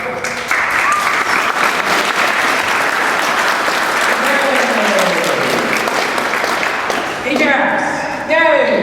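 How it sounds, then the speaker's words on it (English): An audience at a WordPress meetup applauds a presenter, a dense sustained burst of clapping that continues for several seconds before tapering off, with a few cheers and talk rising at the end. "And so big round of applause for Cole."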